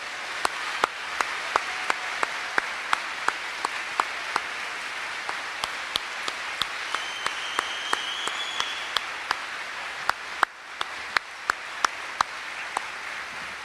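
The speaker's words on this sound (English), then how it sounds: "please, one more collective round of applause for all of our seniors here tonight" A large audience at a high school senior academic awards night claps together in a long, even wash of applause, with a few sharper individual claps standing out over the steady sound.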